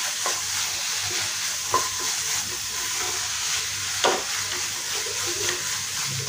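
Paneer bhurji with cooked tomatoes and garam masala is stirred in a hot pan: a constant sizzling hiss with occasional spatula knocks and scrapes, close by and without speech.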